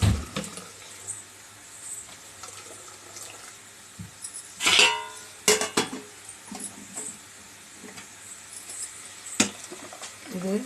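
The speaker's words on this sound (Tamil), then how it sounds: "டக்குன்னு வடிச்சிடணும்." Hot water drains off soaked ragi vermicelli in a kitchen, a steady watery pour with a few louder splashes and clatters partway through, close by.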